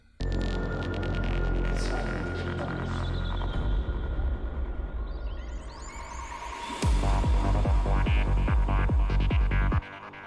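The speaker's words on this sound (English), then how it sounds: "the part where the kick and bass come in" An electronic track plays, then a punchy kick drum and deep bass line enter with steady, regular thumps before cutting out near the end.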